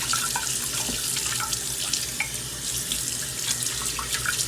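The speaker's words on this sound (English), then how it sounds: "now we're gonna go ahead and rinse our meat off" Tap water runs steadily into a sink while marinated ribs are rinsed, a continuous close splashing hiss with small irregular spatters, no talking.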